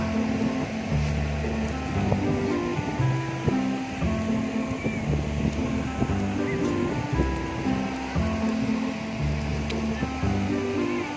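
Ocean waves wash steadily onto a beach, a continuous rushing surf mixed with wind buffeting the microphone, and a voice talks faintly at times.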